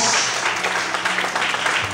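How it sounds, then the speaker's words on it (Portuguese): A worshipping church congregation keeps up dense, continuous applause, with low musical tones and faint voices mixed beneath the clapping. "Serve a Deus, aplaude mais forte."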